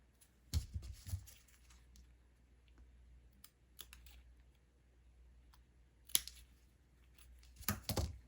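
Scissors cut colored paper for a paper hanbok craft with a few short bursts of crisp snipping, clustered near the start, middle and end, close and alone between quiet pauses.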